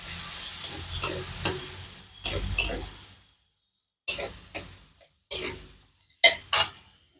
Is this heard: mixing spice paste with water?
yes